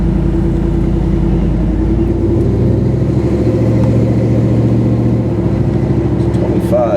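A Chrysler car creeps slowly uphill, its engine giving a steady low rumble that stays loud and close throughout, with a person talking over it.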